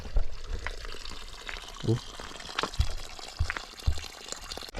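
Clear stream water runs near Binga Dam on a highland bike ride, making a soft gurgling, splashing flow heard close by under people talking.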